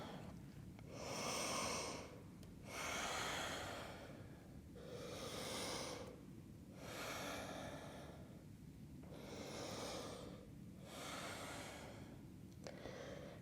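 Slow, deep breathing during a yoga forward fold, with about five long, steady breaths close to the mic. Each breath swells and fades in an even rhythm, and no one speaks.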